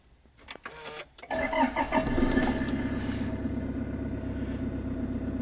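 A Toyota Land Cruiser 150 Series engine cranks and catches on an auxiliary battery after a few brief clicks, then settles into a steady close idle with no talking.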